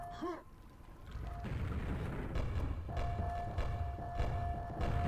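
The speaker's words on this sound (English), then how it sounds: "Look at this grenade battle of the century." Grenade explosions in Quake (DOS) produce a rumbling series of low booms and thuds that continue under game effects for several seconds.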